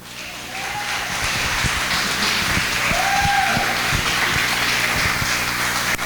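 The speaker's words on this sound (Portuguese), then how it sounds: "Você pode aplaudir ao Senhor." Church congregation applauding at a recorded worship service, dense, loud, steady clapping that swells in after the first second and holds evenly, with a few faint vocal tones over it.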